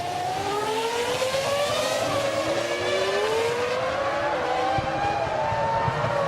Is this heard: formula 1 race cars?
yes